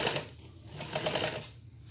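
A sewing machine stitches shalwar fabric for a Patiala shalwar. A brief, faint burst of quick ticking stitches comes close by.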